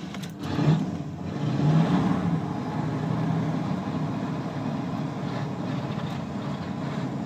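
Old Chevy van engine running rough on a cold start with no choke, a steady low rumbling idle that swells briefly early on, close and without talk.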